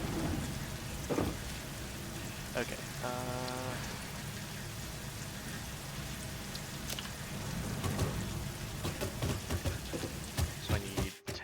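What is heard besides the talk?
rain and thunder in the video game Satisfactory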